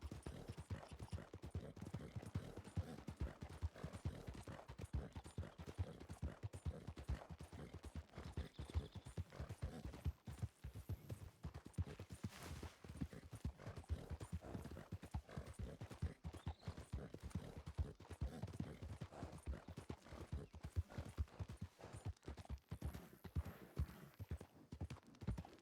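A horse gallops in Red Dead roleplay, its hooves beating a steady, rapid clip-clop that runs without a break under a quiet background.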